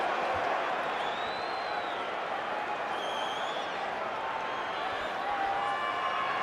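A stadium crowd at a 2013 Super Rugby semi-final between the Bulls and Brumbies applauds a penalty, a steady wash of clapping and crowd noise throughout, with a commentator talking over it.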